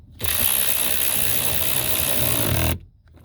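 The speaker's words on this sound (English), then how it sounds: "found something good for this Ryobi ratchet. Putting in these little tiny screws" A Ryobi ratchet drives tiny screws into a Ford Escape, giving a steady, close, continuous mechanical whir that runs for about two and a half seconds, then stops abruptly.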